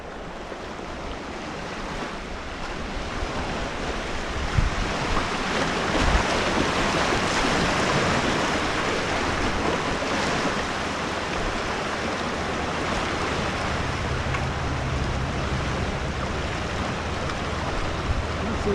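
Whitewater rapids on the Snake River rush in a steady, loud, broadband roar that runs unbroken throughout, close to the microphone, with some wind buffeting and no talking.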